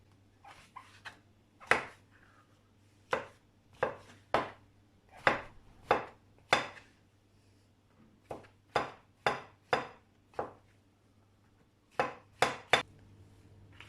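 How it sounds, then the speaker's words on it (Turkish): A knife chops sharply on a cutting board in irregular bursts of quick thuds, close and distinct against a quiet background, without any speech. "Ben şimdi malzemelerimi doğrayıp hazırlayayım."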